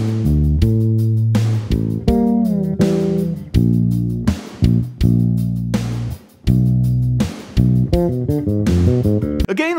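Bass guitar plays a busy pre-chorus line, with loud, sustained low notes that change steadily in a syncopated rhythm and sound up close, with no talking over them.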